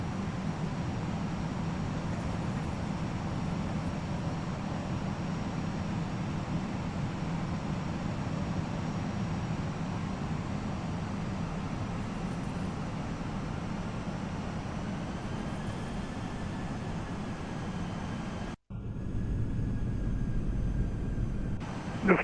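Simulated FSLabs A320 airliner taking off in the Prepar3D flight simulator: a steady, loud broadband engine roar holds throughout, briefly cutting out near the end before resuming with a slightly different tone.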